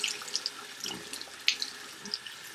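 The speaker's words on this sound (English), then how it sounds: "You press it out and you rinse it off." Tap water running while a beauty blender makeup sponge is rinsed: a steady, moderate splash and trickle into a sink with small squishing splatters as the sponge is pressed, close up and without talk.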